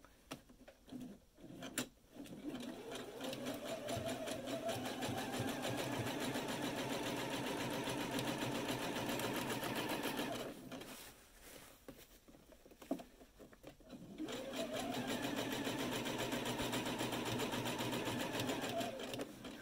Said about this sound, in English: Now I'm going to remove it and hold the second pin and pull it while I sew.